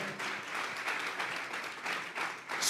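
Church congregation clapping in praise to God during a Spanish-language sermon, a moderately loud crowd of hands in uneven swells and pulses, with no voices over it.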